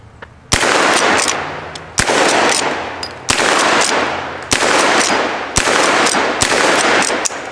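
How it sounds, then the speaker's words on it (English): Loud, close rifle shots at a shooting target, Litchfield and Lancaster repeaters, six sharp cracks at roughly even intervals, each followed by a long rolling echo outdoors. "Let's shoot this target."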